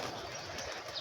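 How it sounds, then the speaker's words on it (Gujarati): Pet pigeons are let go from a home setup, and a brief, faint flurry of wings sounds as they lift off. "આપણે કબૂતર ઉડાડી દીધા"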